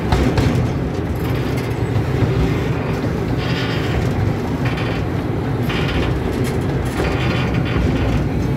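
A zoo train at the Montgomery Zoo rumbles steadily along with a low continuous roar and faint clattering, close and loud throughout, with no talking.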